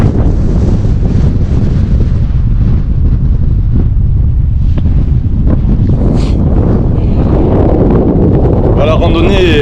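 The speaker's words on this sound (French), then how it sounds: "ce qui est chiant là c'est le vent. Là vous devez l'entendre, le vent" Heavy wind buffets the microphone throughout on a mountain hike at Trolltunga, Norway, a constant loud roar and rumble that drowns out everything else.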